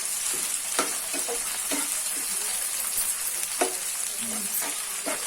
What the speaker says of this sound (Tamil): இதை நம்ம நல்லா ஃப்ரை பண்ணிக்கலாம்.